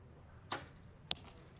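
Two arrows shot at an outdoor archery competition in Paris, heard as two sharp, quick whooshing releases about half a second apart, fairly faint against a quiet background.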